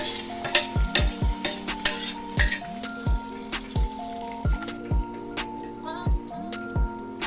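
Sliced ripe tomatoes sauté for tomato pickle in a close, bubbling sizzle, interrupted by repeated scraping stirs and squishy, wet clicks at a fairly regular pace, with no talking.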